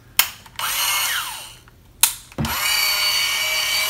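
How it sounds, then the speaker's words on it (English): A small, over-20-year-old rebuilt Makita cordless drill whirs in short bursts, spinning up and stopping twice before running steadily, close and fairly loud, with no talking. "That's a reasonable amount of torque for a drill its size."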